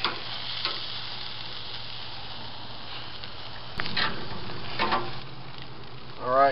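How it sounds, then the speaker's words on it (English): Burgers sizzle steadily on a charcoal grill, a continuous hiss of frying fat with brief scraping and clatter partway through, close and moderately loud with no talking. "Give them a flip after so long. They're cooking up nice. Just let them cook."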